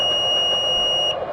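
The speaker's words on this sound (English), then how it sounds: "And here's the sound when a battery has completed charging." A hobby battery charger sounds its charge-complete alert: a sustained, piercing electronic tone with a second higher tone, loud and close, cutting off abruptly near the end.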